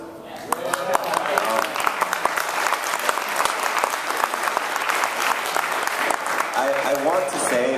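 A panel audience at EVO 2011 breaks into sustained applause, a dense wash of clapping that carries steadily across the whole stretch and swells slightly near the end.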